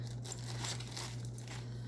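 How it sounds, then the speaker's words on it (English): Scissors struggle against a thin plastic bag in a craft setting, giving a soft, continuous crinkling and scraping of plastic over about two seconds, faint and close with no talking. "Oh my gosh, they can't even cut the plastic."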